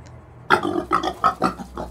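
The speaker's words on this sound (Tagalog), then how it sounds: "makarinig ako ng isang ingay ng baboy sa ilalim ng bahay niya" Pig grunts from beneath a house, a quick series of five or six rough, close grunts in uneven rhythm after a short quiet start.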